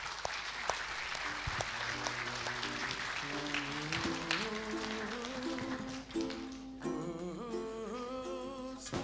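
An audience at a round table session gives sustained applause, a dense wash of clapping that carries on for several seconds under a bright tonal layer.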